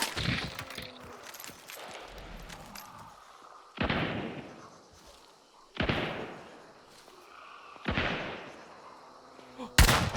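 Gunshots in the video game Hunt: Showdown, several sharp, loud cracks spaced roughly every two seconds with echoing tails, over a low ambient background.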